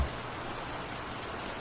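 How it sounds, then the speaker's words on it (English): Rain falling steadily, a soft continuous patter of drops on surfaces, faint and even throughout with no voices. "Drops of rain, drops of perfect rain, drip, endlessly drip"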